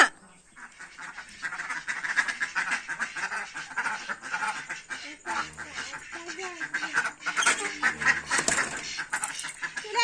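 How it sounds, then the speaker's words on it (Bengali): Ducks quack repeatedly at close range, a busy flock chattering continuously, with a person's voice calling among them. "ওই হাঁসগুলোকে পুকুর পাড় থেকে নিয়ে এলাম"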